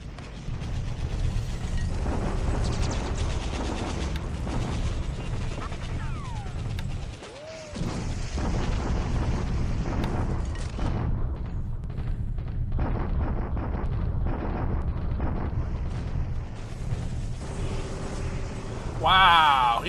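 Bombardment effect from a World War II strategy game set in November 1942, Japan against the Allies: a dense, continuous rumble of crashing, explosive impacts runs throughout, loud and steady, with a brief dip midway and a sharper burst at the end.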